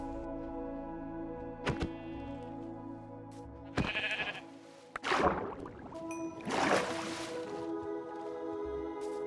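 Minecraft sheep bleat a few times amid thuds and squishy hits as they are killed, with a steady hum of game background music underneath.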